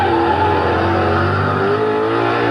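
Street race cars launch from a standing start on a quarter-mile run, their engines roaring loud and close in a continuous rising drone as they accelerate hard.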